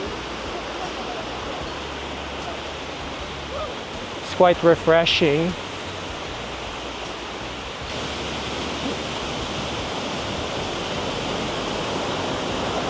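Giessbach waterfall at Lake Brienz, Switzerland, makes a steady, distant rushing wash that runs throughout, with a person briefly talking over it.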